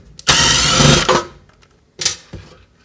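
Screw being unscrewed on a gas stove top held in place over the burners, heard as a loud, close rasping whir lasting nearly a second, then a brief softer rasp, no talking.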